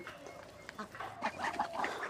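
Chinese ducks kept on a farm without a pond give faint, nasal quacks that rise near the end of the clip, heard against a quiet outdoor background.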